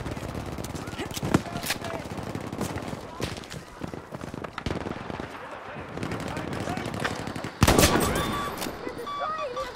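Sniper rifle shots in Battlefield 5 Outpost mode crack amid dense gunfire and battle noise, with one loud shot standing out near the end, while a player talks over the action.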